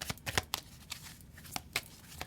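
Tarot cards are shuffled and pulled in quiet short bursts, a string of soft papery riffles and flicks with gaps between them, close but faint.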